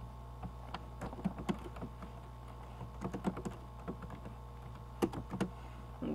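Fingers typing text on a computer keyboard, irregular clusters of crisp key clicks with short pauses between bursts, close and fairly quiet over a faint steady hum.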